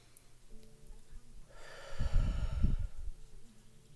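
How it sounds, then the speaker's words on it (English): A slow, calm breath in through the nose followed by a louder, rougher breath out, close and quiet with no talking. "take a moment just to breathe in"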